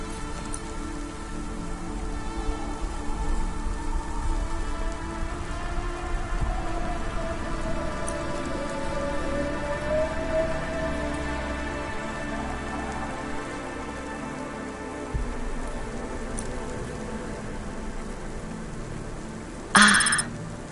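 Steady rain falls and patters across the street in the video game Cloudpunk, an even hiss that carries on without a break. A faint tonal hum drifts beneath it, and a short sharp sound cuts in near the end.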